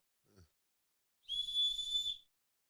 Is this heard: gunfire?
no